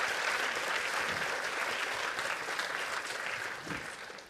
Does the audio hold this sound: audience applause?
yes